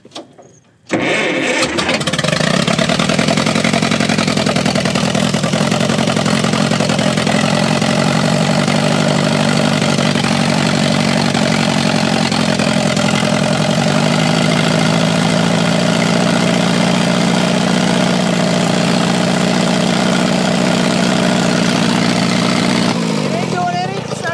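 An old Cleveland bucket wheel trencher engine, left sitting for 50 years, catches after about a second and then runs loud and close at a steady, rough idle until it cuts off near the end.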